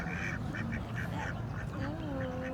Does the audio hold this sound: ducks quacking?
yes